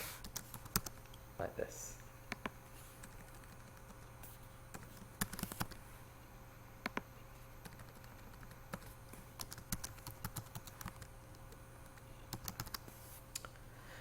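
Someone types on a computer keyboard in irregular quiet bursts of key clicks, some spaced single taps and some quick clusters, with a person talking briefly over the typing.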